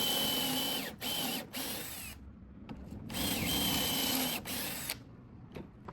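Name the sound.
drilling pocket holes and driving Kreg screws into wood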